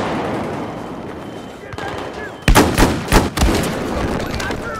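Gunfire in a shooter video game rattles out in several close, sharp bursts clustered mid-clip, with a player's voice heard around the shots.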